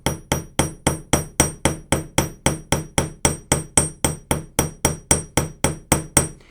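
A hammer flattens the end of a wire on a steel bench block for a wire swan clasp, with about twenty evenly spaced metallic taps at a brisk, steady rhythm, close and clear. There is no talking.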